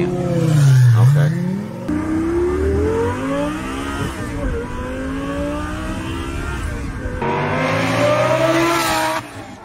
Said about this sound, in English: let's listen to what his new twin turbo Lambo sounds like